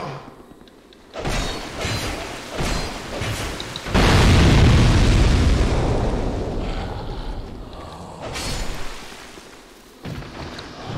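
Barrels blowing up in the video game Dark Souls 2, a loud rumbling blast that swells and slowly decays for several seconds, preceded and followed by softer thuds and wind-like ambience.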